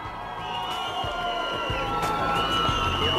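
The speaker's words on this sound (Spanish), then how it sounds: "También un aplauso grande para él." Crowd at a taekwondo competition in Bogotá cheering and applauding, a steady roar with scattered whoops and some claps, fairly loud throughout, with a voice faintly over a loudspeaker.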